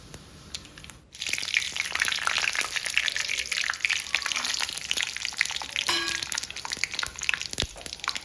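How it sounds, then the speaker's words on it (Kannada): Mustard seeds, dry chilli, curry leaves, chana and urad dal and peanuts frying in oil: a loud, close, dense crackling sizzle rises after a second and carries on steadily with scattered pops and a few spoon scrapes. "ಸಾಸಿವೆ, ಒಣಮೆಣಸು, ಕರಿಬೇವು ಮತ್ತು ಕಡಲೆಬೇಳೆ, ಉದ್ದಿನಬೇಳೆ ಮತ್ತು ಶೇಂಗಾ, ಇದಿಷ್ಟನ್ನು ಹಾಕ್ಕೊಂಡು ಚೆನ್ನಾಗಿ ಫ್ರೈ ಮಾಡ್ಕೊಳ್ಳೋಣ"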